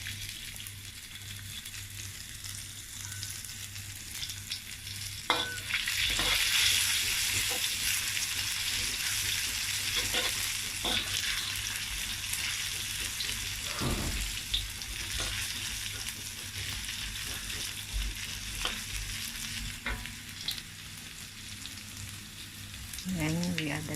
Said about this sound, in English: let's fry the ginger